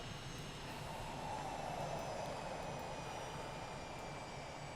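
A steady jet whine from an Aermacchi MB-339 in MSFS2024 runs evenly throughout, with a thin high tone and broad rumble holding level as the engine is throttled to stop during shutdown, with no talking.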